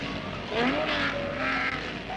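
A 1959 Formula 2 racing car at the Charade circuit rounds a hairpin bend, its engine note rising and falling through the corner with a faint tyre squeal, close and fairly loud over steady background noise.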